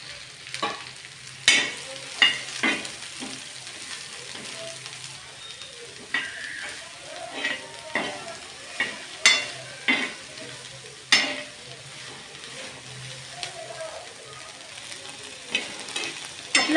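Onion, garlic and ginger frying in oil in a pan as a gravy base is cooked, with a steady sizzle under repeated sharp scraping and stirring clicks of a utensil, close and fairly loud, without speech.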